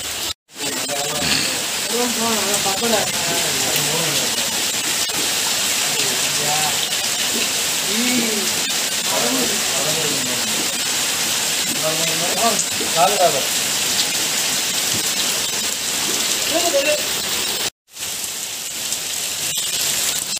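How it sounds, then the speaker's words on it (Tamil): Heavy rain pours down steadily on a rainy Sunday, a dense, continuous hiss of drops on surfaces lasting throughout, with people talking beneath it. "சூப்பரான ஒரு மழை போயிட்டுருக்கு"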